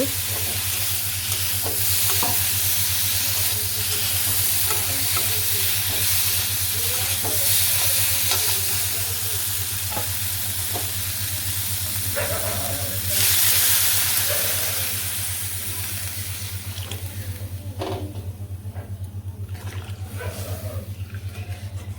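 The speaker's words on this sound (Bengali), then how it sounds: "এই পাশে যে সবজি ভাজি হয়েছে এখন ঝুল দিয়ে দিব" Vegetables with chili powder frying in a village kitchen pan as liquid gravy is poured in, a loud steady sizzle with stirring scrapes over a constant low hum, the sizzle softening near the end.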